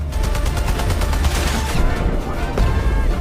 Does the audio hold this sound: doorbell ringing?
no